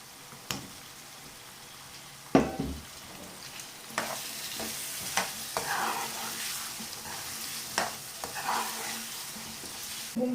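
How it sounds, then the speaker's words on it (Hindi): Frozen potatoes frying and being stirred in a pan for aloo matar, with a steady sizzle and scattered scrapes and clatters of a spoon, moderately close. "आलू को थोड़ी देर भूनूंगी"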